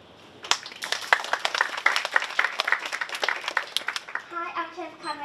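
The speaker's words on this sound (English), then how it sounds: "Applause for them, please." Brisk applause from a small group welcoming three chefs at a cooking event, sharp individual claps rattling for several seconds before fading into a voice speaking.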